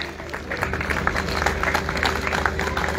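A crowd claps steadily and densely at a turban ceremony for a newly made disciple, a lively round of applause with no pauses.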